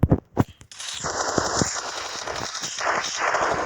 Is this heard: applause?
no